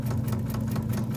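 A dry sewing machine that needs oil whirs steadily and loudly with a constant low mechanical hum while stitching bias binding onto quilted placemats, with no voices.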